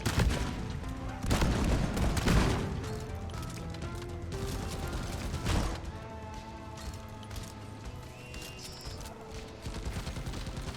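A solo Engineer fires a shotgun in Deep Rock Galactic, several heavy booming blasts with clanking mechanical noise between them, loud and close amid game sounds.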